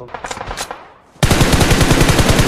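Gunfire in the mobile shooter game BGMI: a few scattered shots with echoing tails, a brief lull, then loud sustained rapid automatic fire right up close.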